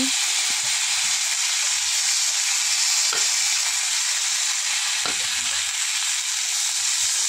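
Shukto made with green banana, potato and thankuni leaves fries in a pan with a loud, steady, close sizzle and hiss that never lets up, broken only by a few faint clinks of stirring.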